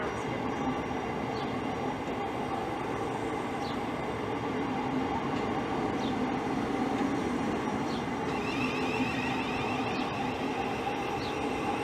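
A train rumbles steadily with a continuous low roar of wheels and motors, faint squeals and clicks over the top, as it pulls away from Rainham station.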